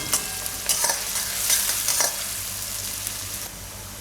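Onions frying over a full gas flame, a continuous close sizzle broken by several soft stirring scrapes, no talking.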